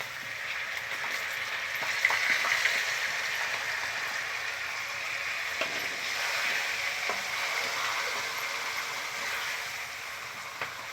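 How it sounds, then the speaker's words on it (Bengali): Gobindobhog rice tipped into a kadai of fried peanuts, crackling in a steady, close sizzle with a few scraping stirs over roughly eleven seconds, no voices. "তো কড়াতে বাদাম ভাজা হয়ে গেছে, এবারে আমি গোবিন্দভোগ আতপ চাল দিচ্ছি।"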